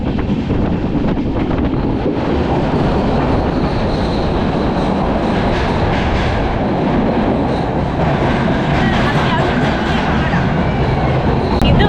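A train rumbles steadily through a long tunnel near Dudhsagar, a loud continuous roar of wheels and carriages with faint clickety-clack and wind buffeting, alone without talk throughout.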